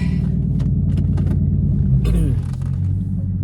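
Inside a moving car, a steady low road rumble and engine drone fill the cabin, with a brief louder swell of engine noise partway through and faint clicks and rustles nearby.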